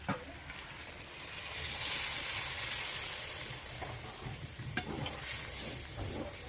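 Water poured into a pan of frying mutton and potatoes sets off a steady, moderately loud hiss and sizzle with faint stirring clicks, no voices.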